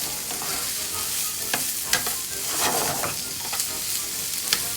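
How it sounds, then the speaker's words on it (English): Onions sauté in a pan with a continuous close sizzle, broken by sharp little clicks and scrapes as they are stirred. Nobody speaks. "we're going to put in the onions. Now I don't want the onions to be brown"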